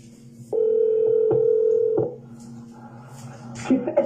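Telephone keypad dialing tones when calling someone back: a long steady tone followed by short clicks and beeps, close and clear, with a faint voice near the end.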